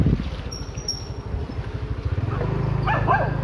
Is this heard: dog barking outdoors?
yes